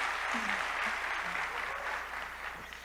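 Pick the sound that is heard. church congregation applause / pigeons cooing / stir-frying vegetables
church congregation applause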